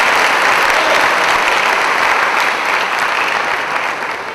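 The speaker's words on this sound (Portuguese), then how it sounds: "Pode aplaudir o Senhor Jesus." A church congregation applauding during a sermon, loud dense clapping from many people filling the room, sustained and even, easing a little near the end.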